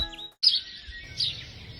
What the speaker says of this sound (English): It is always so special waking up and hearing the bird song here in the mornings at Te Kiteroa.